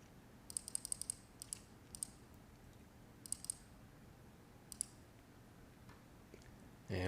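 A computer mouse clicks in software, sharp quiet clicks, some single and some in quick pairs, scattered over near-silence before a louder noise at the very end.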